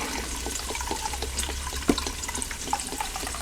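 Chicken stock, 1.5 cups, poured into a pressure cooker: a steady close splashing liquid flow with small clinks, continuous and fairly loud throughout, with no voices.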